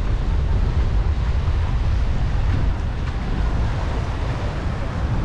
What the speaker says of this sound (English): It's a little bit windy today here.